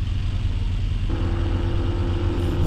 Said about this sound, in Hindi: ओए ओए गाड़ी आ रही है